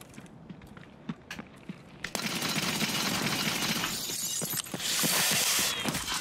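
A grenade goes off in Escape From Tarkov after a few sharp clicks and taps: a sudden loud burst followed by a sustained rumbling, crackling wash of noise that swells again toward the end.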